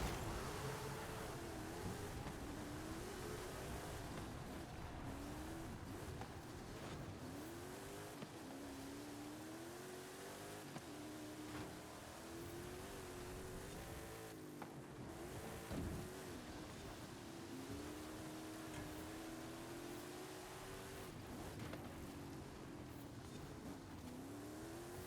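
Racing cars in the Forza Horizon 5 game on an urban cross-country circuit, engines revving and shifting repeatedly with rising and falling pitch, steady and continuous with occasional impact thumps.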